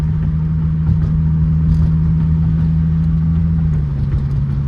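A Chrysler Crossfire engine hums steadily at close range in manual mode, a loud, even low drone with no clear rise in pitch, with no voices.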